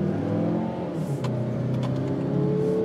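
A 2017 Mazda CX-9 accelerating hard from a standstill toward 60 mph with wheel spin, a steady loud engine drone and tyre noise running throughout without pause.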